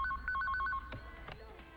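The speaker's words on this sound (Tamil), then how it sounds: "அம்மா, ஃபோன் அடிச்சுக்கிட்டே இருக்குல்ல" An indoor telephone rings in a home with a television playing, a repeated electronic two-tone trill in short bursts that stops partway through, leaving a low hum and faint room sounds.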